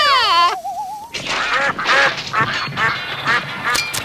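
Ducks quack loudly and close up in a rapid, overlapping chorus of nasal calls, after a short opening burst of whistling, cartoon-like tones.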